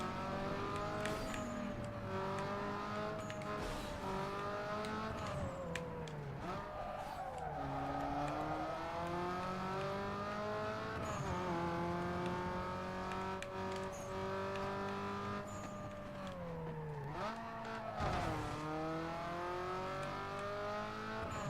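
Street racing car in Need for Speed Underground 2 accelerating hard, loud engine revving through repeated rising gear sweeps with brief tire squeals, continuous for the whole stretch.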